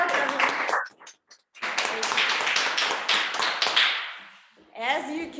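Audience applause at a Toastmasters-style club meeting, a close burst of clapping that breaks off briefly, resumes, and fades, with a voice speaking near the end.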